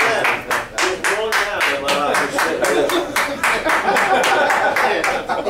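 One person claps in a steady, even rhythm at a breakfast gathering, sharp and close, while people talk and chuckle around the clapping.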